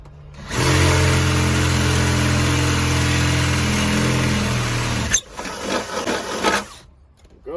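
A drill bores a pilot hole and then a 1/2 inch hole through truck metal, whining loudly and steadily, then stopping abruptly and giving way to rattling clatter.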